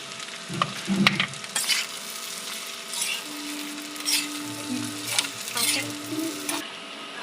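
Maggi noodles with fried egg are stirred in a pan, with a steady sizzle, scattered utensil scrapes and knocks, and a faint low hum running beneath.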